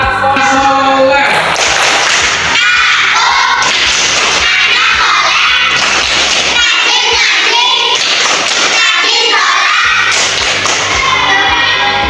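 Young children clap and chant the rhythmic 'tepuk anak soleh' routine in a classroom, loud patterned claps interleaved with sung voices throughout.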